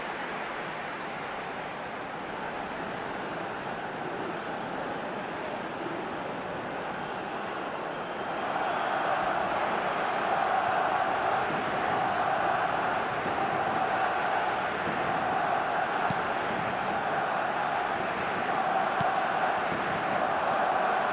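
Stadium crowd in an eFootball match between FC Barcelona and Arsenal, a steady dense roar of distant voices that swells louder and more excited partway through and stays sustained, with faint commentary beneath.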